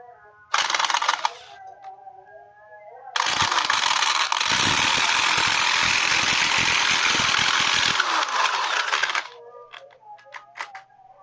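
A Piranha scroll saw cuts thin material that jumps on the table, giving a loud, harsh buzzing burst, a pause, then a longer rattling run of several seconds before it stops with a few light clicks.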